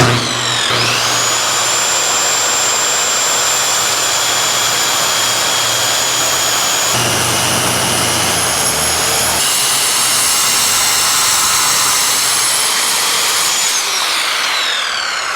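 A saw fitted with a plywood blade cuts through an aluminum truck bed on a Land Rover LR4, a loud continuous high whine and roar that holds steady for about fifteen seconds, up close with no talk.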